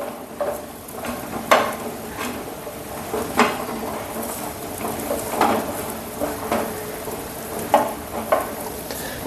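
A chapati sizzles in a pan with a little oil, a soft crackling fry with scattered pops and occasional louder spatters at irregular intervals, close and steady.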